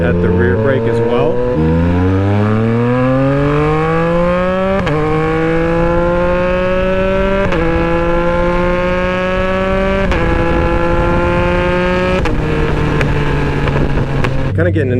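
A Yamaha MT-09 motorcycle with its three-cylinder CP3 engine pulls hard through several gears. Each rising engine note breaks at a shift before climbing again, loud and close, with wind noise throughout.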